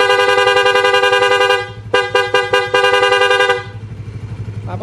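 A Raider 150 FI motorcycle's aftermarket Pia loud horn blares close and loud in a long sustained blast, then fires a quick run of rapid short toots before a final held honk that cuts off.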